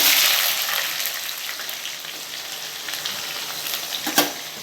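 Onions and dried red chillies sautéing in hot oil for a spicy chicken gongura curry, a steady close hiss of frying with a few brief sharp crackles near the end and no talking.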